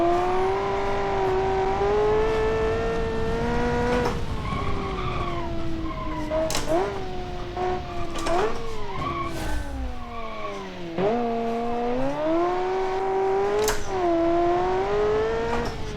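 A car in BeamNG driving hard with full throttle and right-foot braking, engine note rising and falling through revs while tires squeal and skid repeatedly, loud and close throughout.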